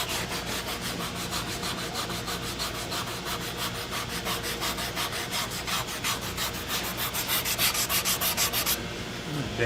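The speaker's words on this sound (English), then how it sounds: "This is like a 320 sanding block." Steady back-and-forth sanding of a leather western saddle with a 320-grit sanding block, a rhythmic rasping scrub repeating quickly and closely, speeding into brisk strokes near the end.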